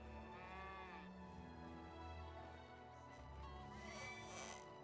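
Cows mooing on a medieval farm in Medieval Dynasty, with long drawn-out low moos from nearby cattle, fairly faint overall, overlapping through several seconds without speech.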